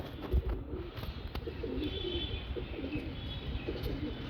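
Red-eyed pigeons coo softly in a series of low, rounded calls repeating every second or so, with occasional faint chirps and light handling noises nearby.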